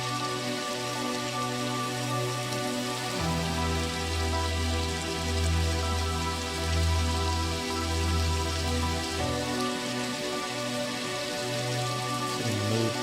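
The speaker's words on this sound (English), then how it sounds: "These added rain effects." Steady hiss of added rain effects runs continuously beneath rich, sustained tonal music in a concept album, the patter constant and fairly soft throughout.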